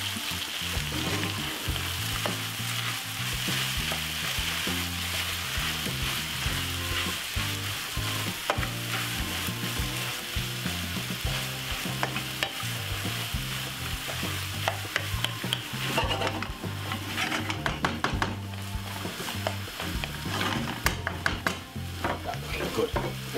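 Corned beef and carrot frying in a pan over medium heat, a continuous steady sizzle with occasional stirring scrapes, close and fairly loud with no voices.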